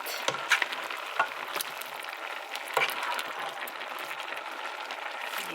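A spoon stirs starch slurry into a pot of lomi noodle soup, soft scraping and wet swishing strokes over a faint steady simmer, close and quiet, no talking.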